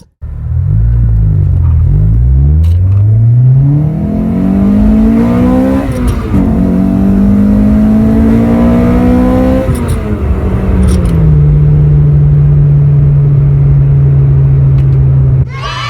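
A 2006 Toyota Corolla XRS engine revs loud and close on nitrous, climbing through gears with a hard, roaring acceleration that holds at high pitch before easing to a steady drone.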